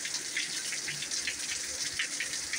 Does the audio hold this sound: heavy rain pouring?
yes